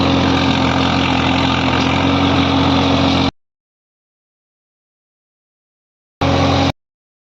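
A tractor engine runs after rotavator tilling on a farm, a loud, steady close rumble that cuts out abruptly, then a brief burst of the same drone returns and stops.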